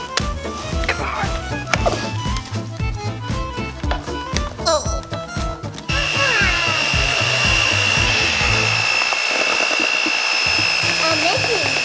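An electric mixer runs steadily with a high motor whine from about halfway through, mixing protein waffle batter in a home kitchen, after a stretch of clattering and talk.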